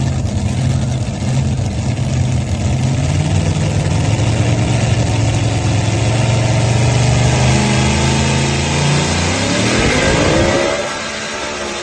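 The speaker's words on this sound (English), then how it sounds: "here comes full throttle 2-wheel drive from Nashville," A 2-wheel drive pulling truck from Nashville, Illinois roars at full throttle in a loud, sustained engine drone at a truck pull, then its pitch drops as it cuts out near the end.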